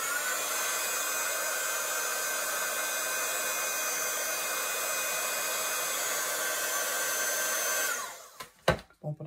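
A hair dryer blows steadily and loudly onto a craft piece for about eight seconds, a constant whooshing roar, then cuts off and leaves a few brief clicks and bumps.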